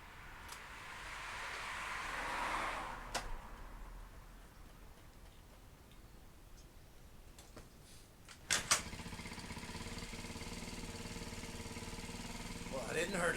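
A freshly tuned scooter engine idles at a steady, fairly quiet hum, with a few sharp clicks and a slightly louder, rougher running stretch near the end.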